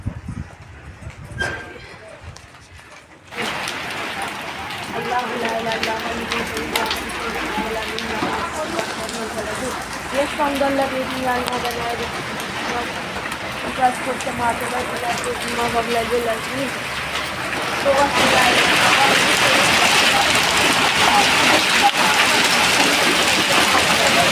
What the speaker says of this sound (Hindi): देखिए कितने ओले पड़े हैं और बारिश और आंधी तूफ़ान इतना तेज़ था